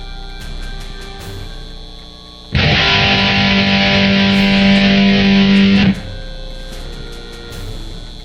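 A band blasts out a short, loud, distorted number in the Back to the Future game, a dense buzzing burst of about three seconds that cuts in and stops abruptly amid quieter background.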